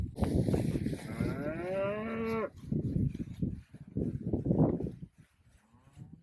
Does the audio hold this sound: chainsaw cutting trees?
no